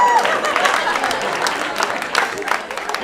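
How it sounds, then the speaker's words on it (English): A comedy club audience at the Laugh Factory breaks into applause, a close, lively spread of clapping with crowd cheers that surges and wavers over about three seconds. "have a round of applause for white people that are here"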